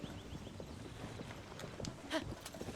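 Horse hooves clip-clopping at a walk in The Legend of Zelda: Tears of the Kingdom, faint regular thuds with a soft snort or whinny near the end.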